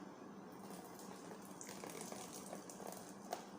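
Warm water poured into a thick Nigerian moi moi bean mixture, a steady soft gushing and trickling that holds even for a few seconds, quiet and close with no voices.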